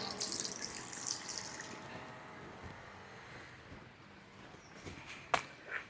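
Tap water runs into a sink in a resale flat in Medavakkam, a steady close rush that eases off, followed by a few faint drips and clinks.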